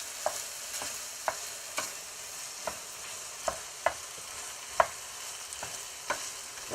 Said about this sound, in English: I have 4 cloves of minced garlic. And stir that in.